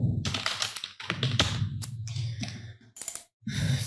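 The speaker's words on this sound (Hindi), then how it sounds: "मैंने ये एक छोटा सा जुमला जो है वो टाइप कर लिया है" Someone types on a computer keyboard nearby, producing rapid, uneven bursts of key clicks with brief pauses, close and clear, with no talking.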